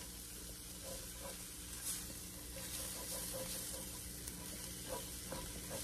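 Flour and cornstarch stirred into a skillet of pork and mushrooms as a sauce base, giving a steady soft sizzle with light scraping stir sounds throughout, fairly quiet and without talk.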